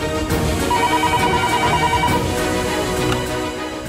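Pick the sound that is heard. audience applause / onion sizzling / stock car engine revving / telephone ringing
telephone ringing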